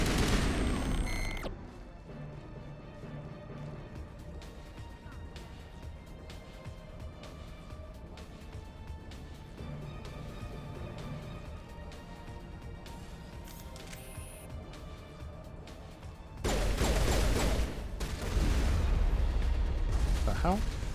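Dense gunfire from the Mass Effect Legendary Edition video game: a steady stream of rapid shots and bursts that runs the whole length, swelling into louder, heavier firing near the end.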